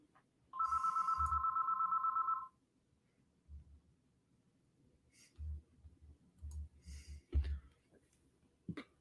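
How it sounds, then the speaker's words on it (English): One long electronic trill of a ringing telephone sounds near and clear indoors, followed by quiet room noise, soft clicks and faint breathing. "I'm sorry about the phone."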